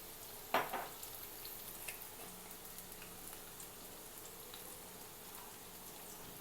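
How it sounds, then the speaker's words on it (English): Garlic frying in oil with chili flakes, a soft steady sizzle with faint crackles and one brief clatter near the start, quiet and close, with no talking. "After that, put the garlic to fry"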